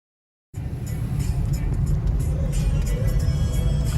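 Evening street traffic in Delhi rolls past as a steady, close roar of cars and engines, a continuous wash of road noise that starts abruptly and never lets up.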